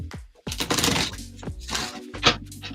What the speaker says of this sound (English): Let me get a nice good shuffle going